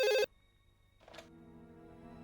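A telephone rings while a call is placed in a TV crime drama: a short, loud electronic ring burst cuts off, then quieter, steady tonal ringing follows after a pause.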